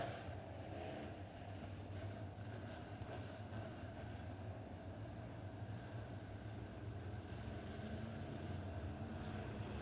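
USRA B-Modified dirt track race cars roar off at the start of a race at Springfield Raceway, a dense, continuous engine drone heard from a distance and holding steady throughout.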